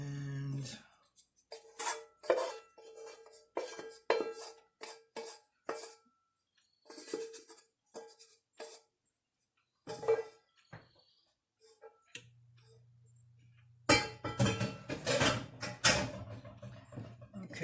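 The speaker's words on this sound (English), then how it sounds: "now we are going to add the mushrooms, broth, and onions" Mushrooms, broth and onions going into a soup pot, heard as a series of close clinks, scrapes and knocks of utensils and containers against cookware, ending with a denser burst of clattering and splashing.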